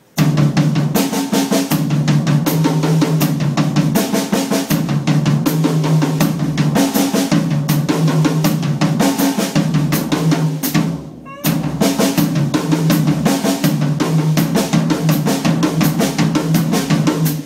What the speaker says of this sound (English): Right hand on floor tom, left hand on snare. Right hand on floor tom, left hand on rack tom.